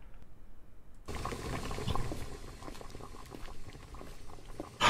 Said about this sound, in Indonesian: Coba gua rebus sekarang.